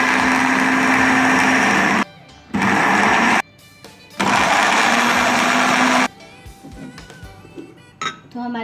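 An electric grinder loudly whirs as it grinds bread slices into crumbs, running in three long steady bursts separated by short pauses, followed by quieter clinking and handling sounds.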